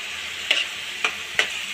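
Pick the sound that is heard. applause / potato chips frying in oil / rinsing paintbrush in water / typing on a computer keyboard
potato chips frying in oil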